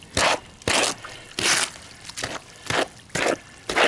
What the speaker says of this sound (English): Now I'm going to add that black water.